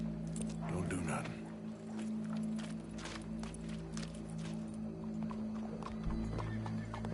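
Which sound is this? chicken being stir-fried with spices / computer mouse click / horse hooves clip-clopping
horse hooves clip-clopping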